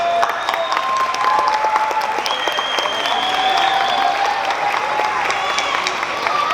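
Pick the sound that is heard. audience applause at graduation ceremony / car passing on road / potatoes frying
audience applause at graduation ceremony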